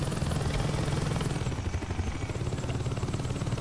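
A helicopter in Saints Row 2 drones with a steady low rotor thump and engine whine, close and continuous throughout, without speech.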